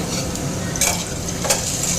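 Vegetables lightly frying in a pan for a home-cooked Annapurna puja bhog, a steady close sizzle with two sharp stirring clatters, no voices.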